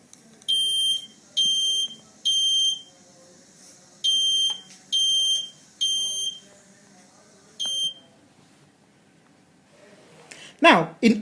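A home smoke detector shrills in about seven loud, high electronic beep bursts, grouped three, three, then one, over faint background noise, ending with a brief clatter.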